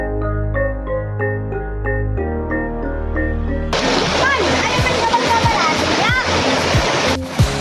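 Children bathing in a river, with busy splashing and rushing water heard under music; a sharp splash stands out near the end.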